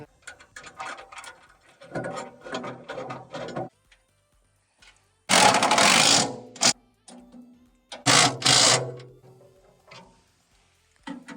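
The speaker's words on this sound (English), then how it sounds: "Putting the lock nut on here on the bottom side." A ratchet wrench tightens a lock nut on the bottom side of a Boss Buck spreader, heard as three separate bursts of quick, crisp clicking with near silence between them.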